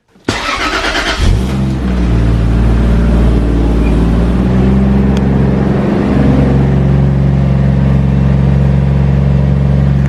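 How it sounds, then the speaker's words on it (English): A car exhaust with two big mufflers fires up on a cold start, a short cranking burst settling into a steady, deep, fairly tame idle rumble that stays loud and close throughout. "This exhaust is super tame on cold start and just idling, it's super quiet, and that's mainly because it's got those two big mufflers."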